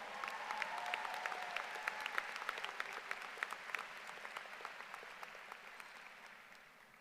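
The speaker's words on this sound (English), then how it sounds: "Let's keep the applause going." Audience at a Thomas Dale High School graduation ceremony applauds steadily, a dense wash of clapping that holds for several seconds and then gradually fades toward the end.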